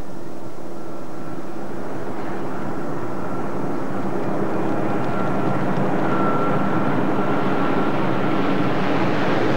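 A formation of aircraft flies past at about 500 feet, a loud sustained engine roar that swells steadily throughout with a droning tone, heard alone without talk.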